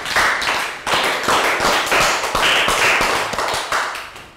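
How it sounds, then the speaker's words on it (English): A classroom of primary pupils clapping for a classmate, a loud run of distinct sharp claps in an uneven rhythm, close and with no talking. "Round of applause for Nadia."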